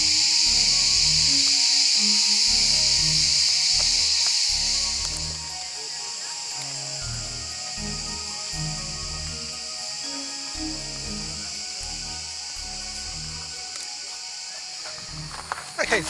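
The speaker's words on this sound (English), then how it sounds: "a cicada sanctuary." Cicadas drone loudly in huge trees at the ancient city of Ephesus in Turkey, a steady high buzzing that is strongest for the first few seconds and then continues slightly softer throughout.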